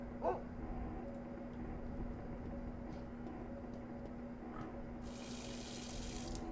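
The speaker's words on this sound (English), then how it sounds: "Gonna make use of my infinite water." Water pours steadily from an infinite water source in the video game Encased, a continuous tap-like rush with a faint hum beneath and a brighter hiss entering near the end.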